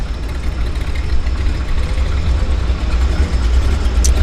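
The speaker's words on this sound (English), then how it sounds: "Twin Otter starting engines over here" A Twin Otter plane's engines run up at a harbour seaplane airport, a loud steady low rumbling drone that holds throughout with slight swells.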